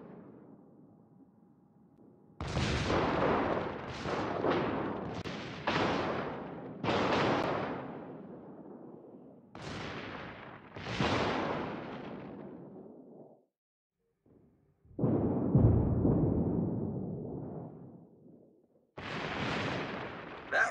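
Naval gunfire from a destroyer in a video game battle: heavy booming salvos in a rapid series, each with a long rumbling tail, then a short silence and further deep blasts, loud and close with no talking.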